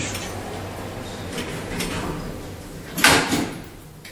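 Elevator door at a Berlin U-Bahn station sliding shut, a soft mechanical glide under steady station ambience, ending in a sharper clunk near the close.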